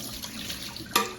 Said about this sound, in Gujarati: હવે એને આપણે ચારણામાં નાખીને બધું પાણી નિતારી દેશું